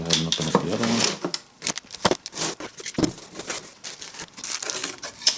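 A package of DeLorean performance brake conversion parts being opened by hand: sharp crinkling, tearing and rustling of wrapping in irregular close bursts, with brief clatters between.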